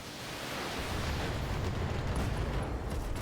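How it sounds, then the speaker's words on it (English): Explosion from the BattleTech video game, a loud, sustained roaring blast of dense rumbling noise that holds steady without pause and without speech. "Oh, machine gun explosion."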